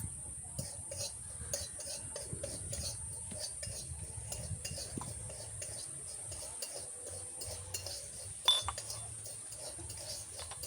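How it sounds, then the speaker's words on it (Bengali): Cumin seeds dry-roasting in a pan, faint scraping and light metallic clinks of a utensil stirring at a steady, quiet level with no voices. "আমি জিরেটা ভেজে নিচ্ছি শুকনো খোলায়।"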